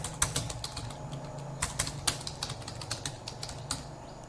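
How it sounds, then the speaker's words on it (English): Fast typing on a computer keyboard, a close run of crisp irregular key clicks with a few louder taps, continuous and with no talk. "Now here we can type Docker installation"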